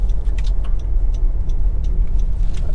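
A Honda CR-V 1.5 VTEC Turbo CVT with four-wheel drive slows to a stop, its low steady road and engine rumble continuous and close, with faint ticking above.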